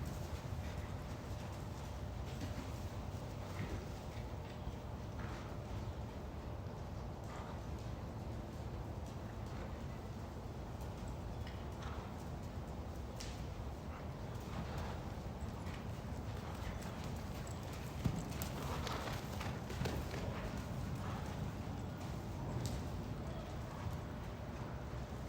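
Hooves of an older horse clip-clopping steadily through a flatwork session in an arena, a continuous soft patter under a broad background hum, with no voices.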